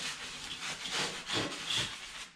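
A saw blade being scrubbed clean, with repeated rhythmic back-and-forth brushing strokes, soft and close, four or five hissy rubs in quick succession.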